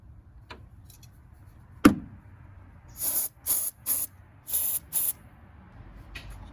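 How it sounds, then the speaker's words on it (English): Freeze Off penetrating spray hissing onto bolts of a Mitsubishi Montero Sport engine during spark plug work: a sharp clank, then five short close bursts of spray in a quiet garage setting. "let's go ahead and spray our freeze off."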